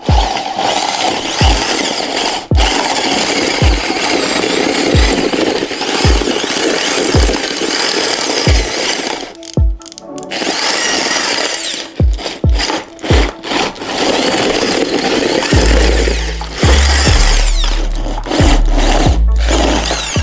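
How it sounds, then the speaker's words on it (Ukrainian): Power drill fitted with a small paddle whisk churning a cement, sand and gravel mix, running in loud continuous bursts with rhythmic scraping knocks, brief pauses, and heavier low thumps toward the end. "Починаємо з дрилі."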